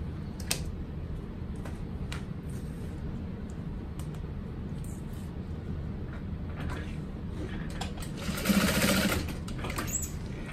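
A sewing machine stitches a crossbody bag in a steady, continuous hum at close range. The run carries faint ticks, swells a little louder near the end, and has no talk over it.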